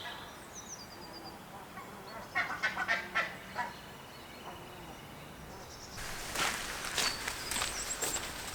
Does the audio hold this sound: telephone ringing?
no